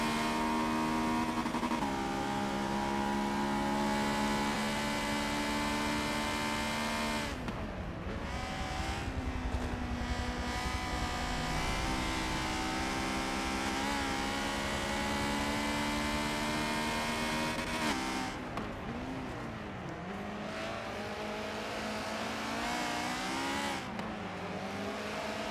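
BRZ and S2000 race cars lapping Sebring in a close race, engines roaring loud and continuous with rising and falling revs as cars pass and shift, a steady dense wall of motor noise throughout.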